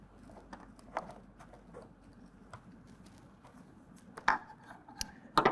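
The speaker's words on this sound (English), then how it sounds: "we're going to cut that in place with a pair of scissors" Scissors snip close by, cutting fender flare trim on a 2020 Ram 2500 in scattered, irregular cuts, sharp clicks between quieter rustling, with a few louder snips near the end.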